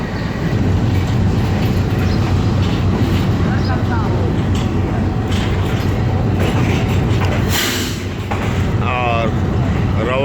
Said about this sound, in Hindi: हमारी ट्रेन रावलपिंडी रेलवे स्टेशन से चलने लगी है